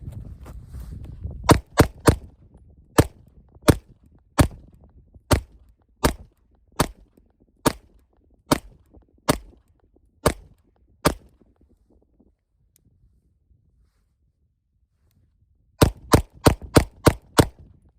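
Sharp, loud pistol shots from a Springfield Prodigy double-stack 2011 with light and optic mounted, a steady string of about fourteen evenly spaced cracks, a long pause, then a fast burst of five more, each ringing briefly outdoors.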